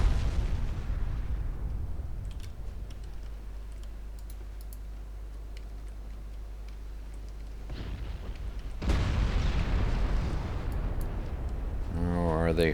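Warships fire naval guns in the Ultimate Admiral Dreadnoughts video game: deep, rumbling booms swell in over steady low engine drone while keyboard clicks tap in the foreground.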